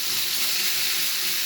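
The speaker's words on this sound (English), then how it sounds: "add the turkey or chicken and stir fry for 5 minutes" Turkey strips stir frying in a hot pan give a steady, close, bright sizzle with an even hiss and no voices over it.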